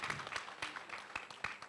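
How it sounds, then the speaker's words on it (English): Faint applause from the audience at a health campaign launch event in Abuja, Nigeria, with scattered individual claps that sound distant and thin. "I think we deserve a round of applause."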